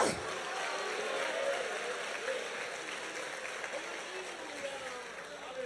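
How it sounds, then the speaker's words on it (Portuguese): A church congregation at a victory worship service claps hard in a dense, sustained burst of applause mixed with crowd noise and scattered voices. "Aplauda mais forte."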